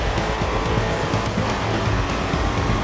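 A race car in the video game GRID 2 corners at speed, its engine roaring continuously with tire squeal layered over it, loud and steady throughout.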